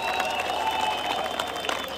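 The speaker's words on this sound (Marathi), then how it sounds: "आपण सगळ्यांनी जोरदार टाळ्या वाजवून त्याचं अभिनंदन केलं पाहिजे." Applause from a crowd at a Govinda Dahi Handi human-pyramid event in Thane, honouring a ten-tier record pyramid; broadband steady clapping with tonal hum, fairly loud and continuous throughout.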